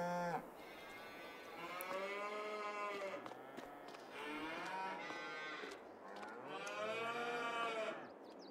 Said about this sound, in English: The cows have come home.